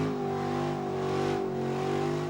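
A big Chevy truck, around 4,500 pounds, holds a loud sustained engine rev during a smoky burnout competition, the tone droning steadily with slight swells and no voices.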